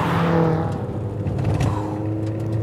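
Porsche 944 Turbo engine pulling hard through a corner, a loud steady drone heard from inside the car, its pitch sinking and then climbing again as the throttle goes down.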